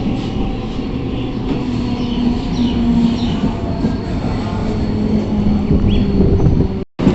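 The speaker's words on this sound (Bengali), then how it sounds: "তো এই ট্রেন থেকে নেমে গেলাম, ট্রেনটা বেরিয়ে যাচ্ছে হাওড়া বর্ধমানের দিকে।" A Howrah–Bardhaman train departing a station rumbles loudly and steadily close by, wheels clattering with faint squeals, before the sound cuts off abruptly near the end.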